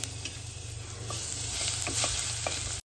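Urad dal, dried red chillies and green chilli-garlic paste sauté in a pan, giving a steady close sizzle with light stirring scrapes and a few soft clicks, no voices.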